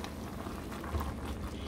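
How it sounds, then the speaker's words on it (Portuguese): Pumpkin sweet with coconut simmering in a pot on the stove, a steady soft bubbling and hiss that carries on without a break at moderate volume, with no voices. "Depois de 20 minutos aqui cozinhando, olha só o tanto de água que soltou a abóbora."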